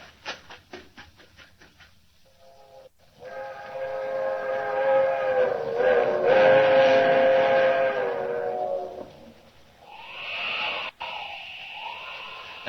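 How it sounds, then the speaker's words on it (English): In a radio drama, a train sound effect starts with quick rhythmic chuffing, then a long whistle blows loudly over a rumbling rush as the train races closer, before fading into a softer, wavering tone. "There's the train. Traveling fast, all right."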